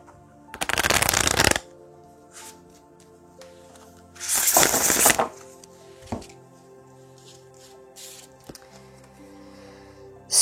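Oracle cards shuffled close by in three bursts: a long dense riffle, a second shorter one, then a brief flick, with quiet gaps between and no speech.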